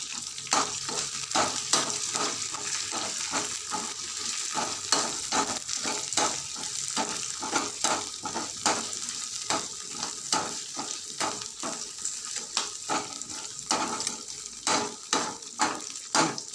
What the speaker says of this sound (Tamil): பச்சை மிளகாவையும் போட்டு வதக்கணும் நல்லா சுண்ட வதக்கணும்